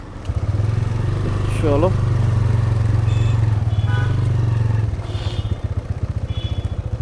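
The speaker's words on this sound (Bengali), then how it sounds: "আচ্ছা, বাইক যাচ্ছে" A motorcycle engine putters close by with a steady low rumble that fades after a few seconds, heard at the Sonajhuri haat during the Poush Mela in Bolpur, with people talking over it.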